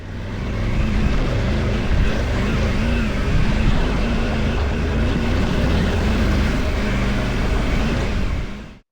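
A Triumph Tiger 900 Rally Pro adventure motorcycle on stock Bridgestone Battle-Axe Adventure tyres is ridden off-road. Its engine drones steadily with wind rush for several seconds, loud and continuous.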